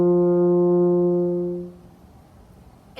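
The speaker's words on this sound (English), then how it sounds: "chunk number one, begins on a middle C, which sounds like this." A French horn sounds a sustained middle C at forte with a strong, steady tone. The note holds for about a second and a half, then fades into quiet room noise.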